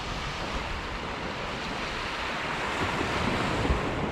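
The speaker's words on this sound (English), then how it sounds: "Hopefully no waves come up." Ocean surf at night on Panama City Beach, a steady broadband wash of breaking waves with wind noise on the microphone, continuous and fairly loud with slight swells near the end.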